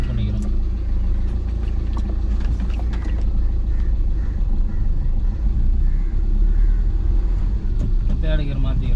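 A car creeping slowly over a speed breaker on a village road with brake and clutch held, a low steady engine rumble and road noise with faint knocks, while someone talks over it.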